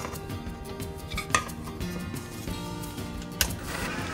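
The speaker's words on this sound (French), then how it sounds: "On va continuer à mélanger." Dry cake ingredients and butter cubes mixed in a bowl, a soft continuous scraping and rumbling with two sharp clinks of utensil against the bowl, close, with no talk.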